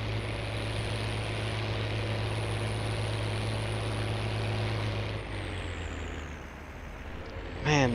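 Tractor engine droning steadily while seeding wheat in a farming video game, a constant low mechanical hum that lightens near the end before a brief higher sweep.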